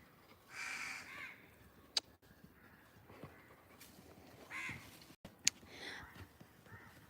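Faint crow caws in a few scattered bursts, distant and thin over low background noise, with a couple of sharp clicks between them.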